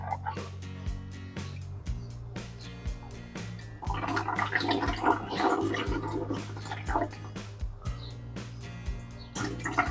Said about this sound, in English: Water taken to the machine now.